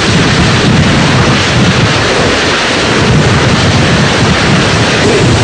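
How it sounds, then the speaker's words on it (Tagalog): Super Typhoon Haiyan (Yolanda) lashing the Philippines, a loud, unbroken roar of wind buffeting the microphone mixed with driving rain, dense and constant throughout with no voices. "Nakakapangilabot ang kambal na puwersa ng hangin at ulan."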